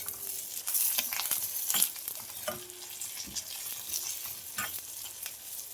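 Sesame seeds and curry leaves sizzle and crackle in a hot pan, tempering for tamarind-leaf chutney, with steady frying hiss and scattered sharp pops and stirring scrapes throughout, close and fairly quiet, with no talking.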